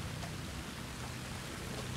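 Outdoor rain falls steadily over a yard, a dense, even hiss of drops that holds at a low level throughout, with no voices.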